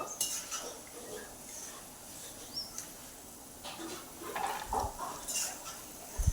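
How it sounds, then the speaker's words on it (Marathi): Roasted peanuts are tipped from a pan onto a plate, giving scattered light clinks and rattles against metal, faint and intermittent. "तर आता आपण इथे गॅस बंद करणार आहे आणि शेंगदाणे ताटामध्ये काढून घ्यायचे आहे आपल्याला."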